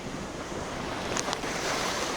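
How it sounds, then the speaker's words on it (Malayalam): Rough sea waves during a sea surge at Azhithala roll in as a continuous wash of surf mixed with wind rumble on the microphone, with a couple of faint higher splashes midway. "ഇന്ന് പെട്ടെന്നാണ് ഇറക്കത്തിന് കടൽ കൂടിയത്."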